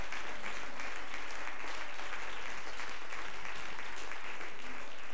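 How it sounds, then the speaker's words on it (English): A church congregation clapping their hands in praise, a loud, continuous wash of clapping with a low rumble underneath and no clear pauses throughout. "would you clap your hands to the Lord?"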